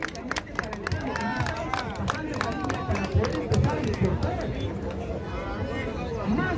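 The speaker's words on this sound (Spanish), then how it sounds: "Muchas gracias y palmas por todos los compañeros que están convocados hoy." Applause from a crowd at an outdoor protest rally against imperialist aggression toward Venezuela: a dense, steady patter of many hands clapping, mixed with crowd murmur and voices talking.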